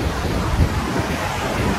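Sea waves wash steadily onto Serenity Beach in Pondicherry, a dense, close, continuous roar of surf mixed with wind buffeting the microphone.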